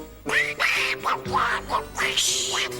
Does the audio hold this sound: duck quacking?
yes